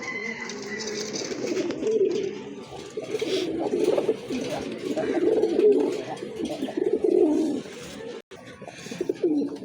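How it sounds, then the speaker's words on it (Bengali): Large Shiraji pigeons coo steadily at a pigeon sale, several low, throaty calls overlapping close by, with a brief dip in the sound near the end. "এটা সিরাজি কবুতর, কিন্তু সাইজ কিন্তু অনেক বড় সাইজের কবুতর।"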